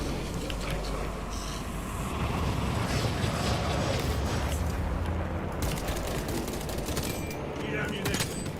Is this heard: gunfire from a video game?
yes